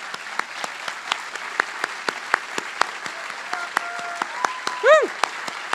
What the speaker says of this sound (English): get another round of applause from everybody